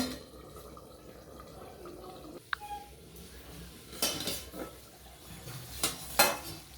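A lid clinks onto a pan of simmering coriander katla fish curry with one sharp metallic knock, followed by scattered clatters of cookware and utensils against a faint bubbling background.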